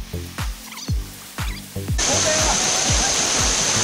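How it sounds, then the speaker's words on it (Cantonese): A mountain stream waterfall: at first several loud, close thumps and scrapes from climbers are heard, then a steady, roaring rush of falling water takes over. "呢度嗰條瀑布好靚啊，真係。"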